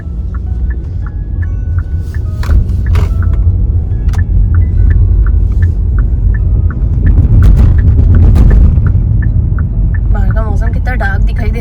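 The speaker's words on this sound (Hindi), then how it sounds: "बहुत ज़्यादा ट्रैफिक हो रखा है, ये रहा, कंटिन्यू गाड़ियाँ आ रही हैं जा रही हैं स्कूल एरिया में" Heavy car traffic rumbles steadily past in a school zone, a continuous low roar of passing vehicles close by, with a regular ticking beep and someone talking over it.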